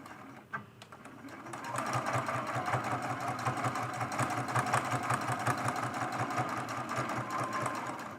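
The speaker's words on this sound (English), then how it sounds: "I'm sewing right next to that seam." A sewing machine stitches a mug rug with a steady, rapid mechanical rhythm, starting after a brief pause and running close and loud without a break to the end.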